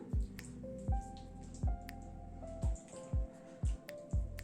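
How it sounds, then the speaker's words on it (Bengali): Fish being mixed by hand with mustard oil for a paturi dish: a series of wet squelching drips and squishes, about eight soft slaps at a steady rhythm, close and fairly quiet. "মাছগুলোকে মাখিয়ে নেওয়া হয়ে গেল।"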